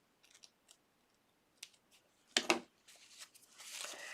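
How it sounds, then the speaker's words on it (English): Scissors snip off a loose thread during cloth diaper sewing, a few soft close clicks and cuts with faint handling rustle, fairly quiet. "Cutting off my little thread from before."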